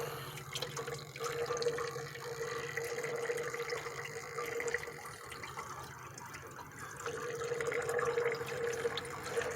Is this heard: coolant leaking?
yes